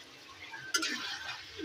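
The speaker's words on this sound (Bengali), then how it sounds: "কষা হচ্ছে তো মাংস" Meat frying in oil with capsicum for a chicken kosha, with a soft stirring scrape and rising sizzle partway through, close and fairly quiet.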